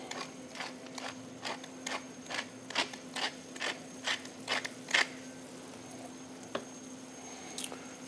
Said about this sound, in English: I'll add a little bit of salt and a little bit of freshly ground white pepper